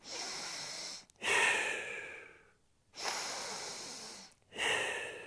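Deep breathing during a CrossFit mobility stretch, with long, close, airy breaths alternating with short pauses, two inhale-exhale cycles heard alone without talk.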